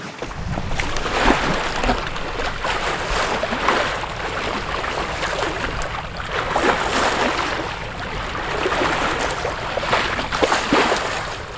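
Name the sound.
sailing boat running downwind under genoa, main and mizzen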